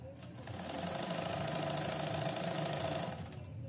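Yamazaki Blue Bird 1200 sewing machine stitching a zigzag, a fast steady mechanical chatter that runs continuously for several seconds and then winds down, close up and alone without speech.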